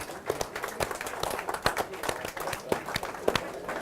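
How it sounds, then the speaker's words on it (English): A round of applause from the crowd at a house auction in Toorak Gardens after the sale, a few seconds of scattered, moderately close clapping. "Congratulations and a very big round of applause"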